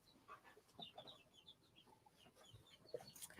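Homestead chickens cluck in scattered, irregular short calls, fairly faint and at a middle distance, with outdoor background noise and a louder burst near the end.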